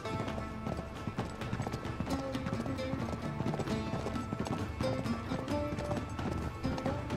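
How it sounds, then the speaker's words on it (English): Rapid rhythmic clip-clop of galloping horse hooves from Uncharted 3, steady and close, with a game-like ambient bed underneath. "Time for more horseback riding."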